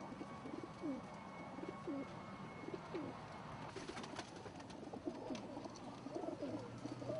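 Pigeons in a home loft, including a clean-legged priest, give soft repeated coos at a quiet level. The calls come in short, spaced phrases over a steady low background hum.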